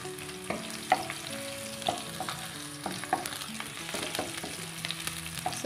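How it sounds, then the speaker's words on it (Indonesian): Sliced shallots stir-frying in hot cooking oil, a continuous close sizzle broken by repeated scraping and stirring strokes of a utensil against the pan, with no voices. "bawang merah yang sudah diiris dan tumis sampai layu"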